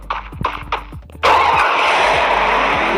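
In the game Free Fire, a motorcycle engine cranks and then catches, rising abruptly into a loud, steady running roar that holds close and continuous, after a few sputtering attempts.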